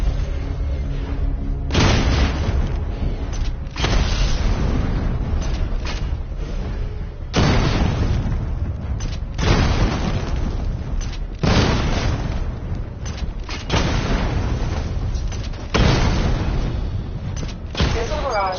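Repeated heavy booms and blasts from targets being destroyed in Batman: Arkham Knight, coming in loud bursts every couple of seconds with brief rumbling tails, some voice underneath.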